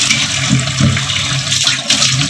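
Tap water runs steadily over a silver carp soaking in a kitchen sink, a continuous splashing rush with small surges throughout.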